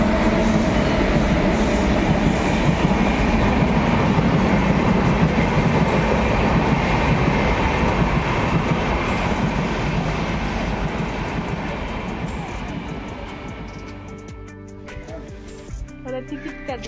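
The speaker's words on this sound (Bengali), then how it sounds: "এটা আমাদের ট্রেন না, এটা এদিকে যাবে।" A passing train at a railway station on the Jamalda to Baksirhat route, a loud, steady rumble and clatter of rail cars that fades near the end, with a little talk faintly under it.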